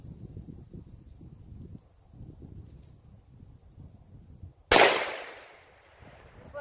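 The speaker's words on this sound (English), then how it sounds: "Shoot the jug." A single loud, close gunshot aimed at a jug outdoors, a sharp crack with a long fading echo after several seconds of wind rumble and low background noise.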